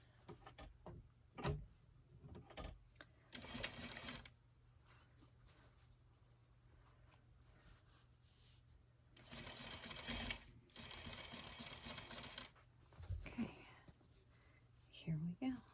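Sewing machine stitching a bumble bee dress, running in several short bursts of rapid whirring stitches separated by quiet pauses, with soft low talk and faint handling clicks between runs.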